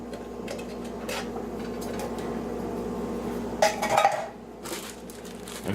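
Canned green beans with their liquid are tipped into a pan, giving a few light metallic clinks and a short splashing pour close by, over a low steady background hum.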